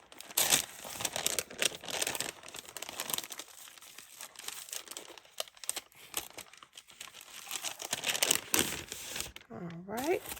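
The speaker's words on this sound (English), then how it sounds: "looks like I'm gonna have to tear it" Paper packaging from a stationery shop kit is crinkled and torn open up close, with dense rustling and ripping bursts throughout and a brief squeaky sliding sound near the end.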